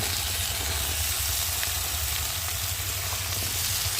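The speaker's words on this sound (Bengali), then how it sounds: "কচু আর আলুটা একটু ভালো করে তেলের মধ্যে ভেজে নেবে" Potato and taro pieces frying in oil after onions for a tilapia curry, giving a steady, close sizzle with a low hum underneath and no talk.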